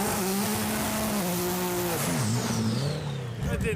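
A modified 2002 Blazer with a stage 2 setup does a burnout, its engine revving hard with rising and falling pitch. A high whine and tire hiss sit over the roar, which eases off near the end.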